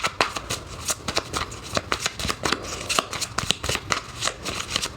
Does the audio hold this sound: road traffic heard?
no